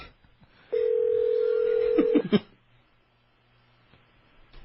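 A telephone line for a calling-card call gives a steady dial tone for about a second and a half, followed by a few quick keypad tones. Near silence follows.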